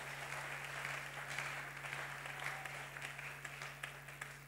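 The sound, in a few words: congregation applauding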